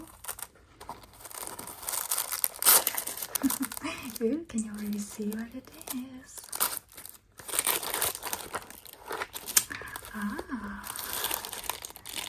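Close crinkling and rustling of paper being torn and unwrapped, with whispery speech in between the crumpling bursts.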